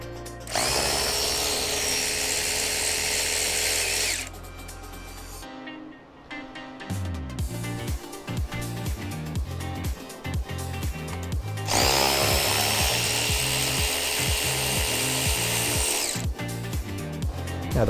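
An electric power tool whirs in loud bursts while loosening bolts on a transmission being taken apart. Sustained high spins alternate with a stretch of rapid rattling impacts, close up, with no talking.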